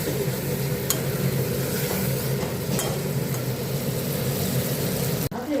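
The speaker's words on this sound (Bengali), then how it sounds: "একটু নাড়িয়ে চাড়িয়ে জল দেবো, তারপরে পনির দেবো" Fried paneer and spiced masala are stirred in a hot pan, with a constant close sizzle, a couple of sharp spoon scrapes and a clunk near the end.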